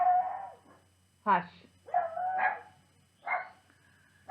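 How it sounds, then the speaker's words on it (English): A pet dog named Festus barks and yips indoors in several short bursts, mixed with whimpering tones, while someone briefly speaks over it. "now she's got Festus barking in the middle of my video"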